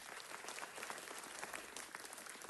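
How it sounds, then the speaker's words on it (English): Audience at a city council meeting applauds a retiring police officer, a quiet, distant-sounding wash of many people clapping steadily throughout. "Let's give Wunderlich a big round of applause."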